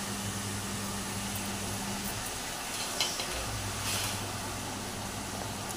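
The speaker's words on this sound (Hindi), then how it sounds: "मेरा चढ़ा हुआ समोसा का कीमा, जो मैंने प्याज फ्राई करके उसमें गोश्त को डाल चुकी हूँ" Samosa mince of fried onions and meat cooking in a pan, giving a continuous dense sizzle and hiss with occasional faint scrapes of stirring, steady and close, with no talking.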